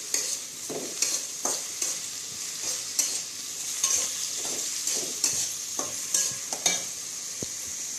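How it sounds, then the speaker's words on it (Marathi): Potatoes fry in a pan for sabudana khichdi, a continuous quiet sizzle broken by regular scraping strokes of a spoon or spatula, roughly one every half second, close and even. "बटाटे टाकून देते ह्यात चांगला चांगलं ते घेऊया"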